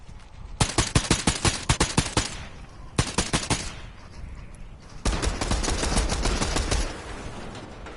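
Gunfire in a solo battle-royale video game match: a fast run of sharp, loud shots, a pause, another short burst, then a sustained noisy stretch of rapid fire, with no talking.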